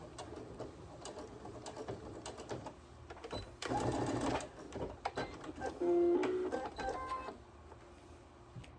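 A sewing machine stitches skirt fabric in short bursts of mechanical whirring, close and moderately loud, with quiet pauses between runs.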